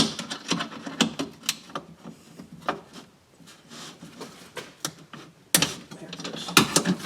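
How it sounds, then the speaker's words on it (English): A wrench turns a bolt on the window regulator inside the door of a 2015 Honda CR-V, making an irregular series of sharp metallic clicks and taps, close and fairly quiet. "I think I can get it with just a wrench here."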